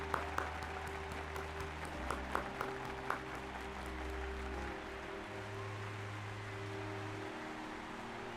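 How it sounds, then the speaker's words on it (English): In-game applause during a Final Fantasy XIV Dawntrail cutscene, a faint rustling patter of clapping with a few sharper early claps, set under low sustained music tones. "Give a little clap."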